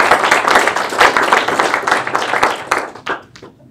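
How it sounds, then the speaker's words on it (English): Applause from a student government senate meeting crowd, a dense patter of clapping that holds steady for about three seconds before thinning into a few scattered final claps. "So give yourselves a round of applause."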